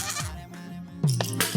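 A goat bleats twice in a short, nasal, wavering cry, loud and close, in a drama scene with no speech.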